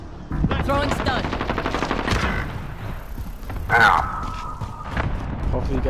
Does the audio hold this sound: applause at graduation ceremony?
no